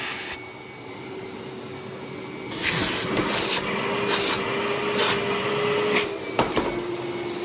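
A brand-new vacuum cleaner runs steadily and loudly, with a constant motor whine and airflow roar that rises partway through as suction strengthens, with a few brief bumps and rubbing knocks against the machine.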